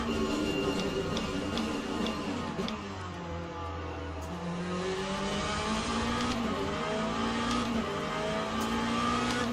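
A pack of hypercar race cars roars past at Fuji in the racing sim Le Mans Ultimate, engines whining and shifting pitch as they pass in a steady, loud stream with tire noise.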